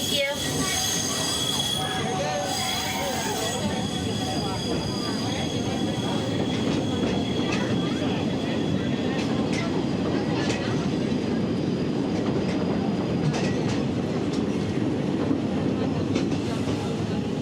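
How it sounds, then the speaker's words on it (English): Walt Disney World Railroad train rolling along the rails at the park at Christmastime, a steady close rumble with wheel squeal and faint clickety-clack running unbroken throughout. "welcome aboard the Walt Disney World Railroad"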